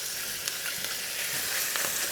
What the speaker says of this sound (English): Never lose that sizzle.